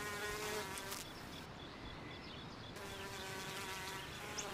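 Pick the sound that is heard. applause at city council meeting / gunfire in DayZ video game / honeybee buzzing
honeybee buzzing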